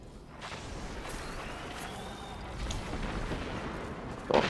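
An enemy ship fires on the player in the video game Destiny 2, heard as rumbling booming blasts and whooshes under a continuous roar, with a louder burst at the end.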